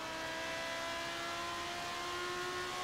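Lamborghini race car in the racing game Forza Horizon 3, a steady sustained engine drone with a high tonal whine held at even loudness, no voices over it.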